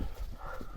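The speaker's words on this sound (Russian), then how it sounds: "нужно же снять видео, как бегают лошадки" Wild horses gallop past, their hooves clip-clopping in a quick, continuous patter over steady outdoor noise in a very short burst.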